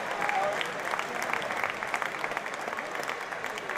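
A football crowd at a Luton Town versus Barnet Vertu Trophy match applauds a substituted player with steady, distant, continuous clapping, while commentators talk over it.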